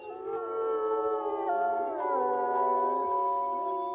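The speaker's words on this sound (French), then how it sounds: "Les loups hurlent plus longtemps et plus fort pour certains individus." Several wolves of a pack howl together in long overlapping wavering tones, loud and sustained throughout with no talking.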